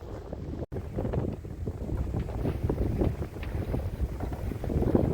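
Wind rushes past a sailing boat at a classic boat festival, a steady buffeting roar over the microphone with low water and hull rumble beneath.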